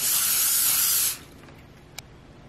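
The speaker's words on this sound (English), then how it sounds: "Now I'm gonna go ahead and spray the salmon." A short hissing burst of cooking spray onto salmon on a parchment-lined pan lasts about a second, then stops, followed by quiet room tone and a faint click.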